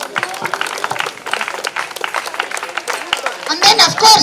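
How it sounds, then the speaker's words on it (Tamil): A crowd at a hospital event gives a round of applause, with dense clapping throughout that swells toward the end, and voices mixed into it. "பெரிய கைத்தட்டல்."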